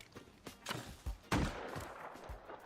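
Gunshots in a video game, a quick series of popping shots and thuds over about three seconds, with one louder burst midway, fairly faint overall.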